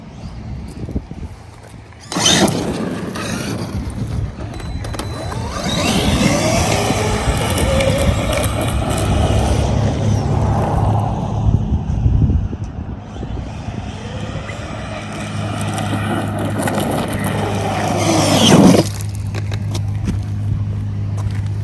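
A Traxxas RC car, a Maxx or Rustler 4X4 VXL, makes a speed run on gravel, its electric motor whining as it approaches, peaks loudly while tearing past with crunching gravel, then fades away before a second rise.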